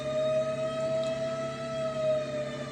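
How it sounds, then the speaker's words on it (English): A steady, sustained siren wails without pause, a long unbroken tone at moderate loudness, from the town siren that sounds at noon. "that siren goes off at noon"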